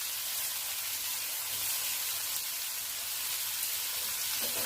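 Chopped onion frying in melted butter sizzles with a steady, close hiss that holds at an even level throughout, with no voices.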